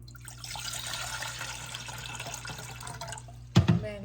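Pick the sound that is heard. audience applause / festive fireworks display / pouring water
pouring water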